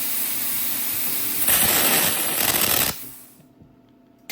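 Harbor Freight plasma cutter, with its pilot arc circuit under repair, struck against the workpiece: a loud, broad hissing crackle bursts on for about a second and a half, then cuts off into a quiet room hum.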